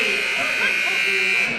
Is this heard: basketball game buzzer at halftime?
yes